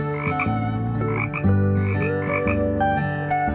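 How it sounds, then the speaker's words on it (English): A spade-foot toad calls in loud, close, droning croaks that rise and fall in short repeating phrases over a few seconds, heard alone. "Spade-foot toad."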